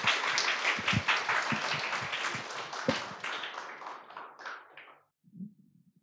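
Church congregation applause, dense clapping that fades out after about five seconds, followed by a brief low murmur.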